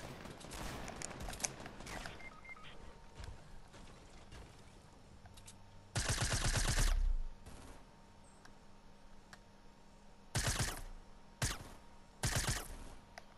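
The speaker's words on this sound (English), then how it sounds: "I hate this submachine gun so bad." A submachine gun in Fortnite fires in rapid bursts: a long sustained burst in the middle, then several shorter bursts near the end, loud over faint background game sounds, with scattered quieter shots early on.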